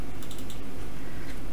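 Typing on a computer keyboard while entering values in Rhinoceros 3D modelling software for jewelry model making, a quick run of light, close clicking keystrokes without talk.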